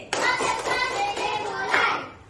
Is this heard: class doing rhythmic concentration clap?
yes